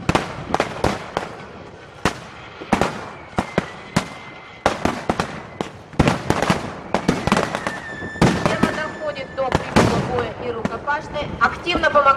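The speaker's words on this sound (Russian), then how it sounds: "Активно помогает артиллерия." Artillery fire in a wartime battle against the Wehrmacht: a rapid, irregular barrage of sharp bangs and booms, some close and loud, others softer and more distant, with brief crackling between shots.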